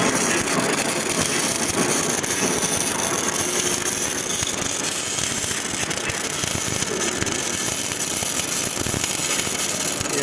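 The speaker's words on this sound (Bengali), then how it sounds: "সলিড ওয়ারের ওয়েল্ডিং এটা হলো সিও টু মিক ওয়েল্ডিং" Solid-wire CO2 MIG welding at a worksite in Saudi Arabia, a steady loud crackling buzz that runs without a break for the whole stretch, with heavy background machinery noise and no talking.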